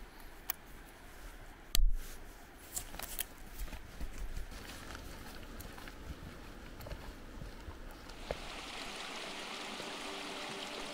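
Water rushes steadily from a waterfall and stream along a Pyrenees mountain trail toward Faja Racon, a faint continuous hiss broken early by a few soft knocks and growing brighter near the end.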